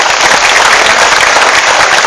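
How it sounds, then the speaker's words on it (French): An audience at an outdoor political gathering at a farm in La Bocca bursts into loud, sustained applause, steady dense clapping filling the whole moment. "Je vous demande d'applaudir très fort M."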